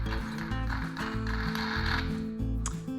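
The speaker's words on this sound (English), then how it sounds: "All right, so we got all these bolts nice and tightened down now." Bolts being tightened on a metal jig, a continuous run of ratcheting clicks and grinding mechanical noise, close and steady throughout.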